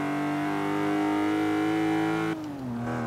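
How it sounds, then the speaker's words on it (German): A straight-six car engine in Forza Horizon 3 revs and holds a smooth, steady tone, then drops in pitch as it shifts or eases off, loud and close with no talk. "Motor klingt ganz gut."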